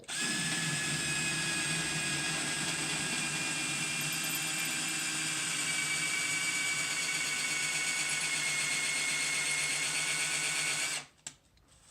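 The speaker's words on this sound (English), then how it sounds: "it's going to be loud, so watch yourself. And we drill." A power drill with an auger bit whines steadily and loudly for about eleven seconds, boring a hole through wood, then stops abruptly.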